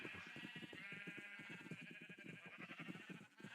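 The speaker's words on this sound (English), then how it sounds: "I will feed my sheeps first." Sheep in the Minecraft video game bleat in a rapid, repeated wavering cry that runs continuously for a few seconds, faint and in the background.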